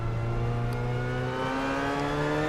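Loud race car engine in the Assetto Corsa racing sim, revving steadily with rising and falling harmonic tones, close and continuous with no talking.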